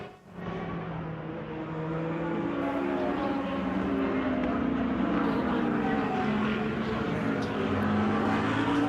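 Classic sports-prototype race cars at a historic endurance event at Daytona International Speedway roar past in a steady, loud, dense engine drone that swells in from near-silence and holds for several seconds.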